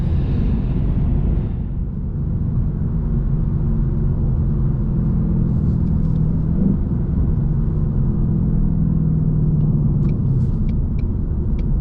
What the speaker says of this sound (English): Let's do a long 4th gear pull, ease into it. I'm not gonna rev it out all the way, just a little pull.